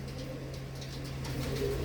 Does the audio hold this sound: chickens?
no